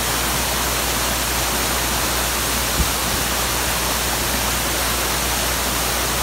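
Strong, steady rushing water pours down Poocan Falls, a dense unbroken roar filling the whole clip without pause.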